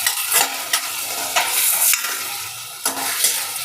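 Vegetable upma with tomato and green chilli stirred in a pan, a loud close sizzle with several scraping strokes of the spoon at uneven intervals, no voices.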